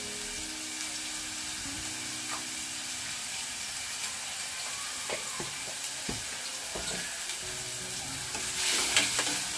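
Onion cooking in a pan on a high gas flame, with a steady sizzle and scattered clinks and scrapes of pots and utensils growing busier toward the end.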